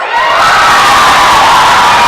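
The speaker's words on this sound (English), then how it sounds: "Ref taking some grief from the hometown crowd here" A hometown crowd at a high school volleyball match between Lyman and Pinedale roars and jeers at the referee, a loud sustained wall of shouting and whooping heard close.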